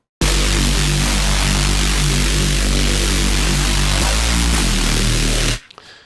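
Drum and bass Reese bass patch built in Vital and pushed through OTT multiband compression: a dense, sustained, buzzing low drone with bright hiss across the top, loud and continuous, briefly shifting pitch before cutting off.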